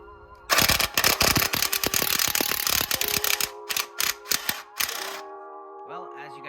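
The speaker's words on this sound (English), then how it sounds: "pull out my trusty little snap-on impact, and of course grab some tools" A Snap-On impact wrench with a 12mm socket on a car bolt hammers in a loud, rapid rattling burst, then stutters in short pulses before stopping, with a faint mechanical hum after.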